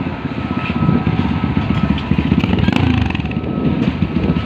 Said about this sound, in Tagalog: Astig ang motor na to guys oh.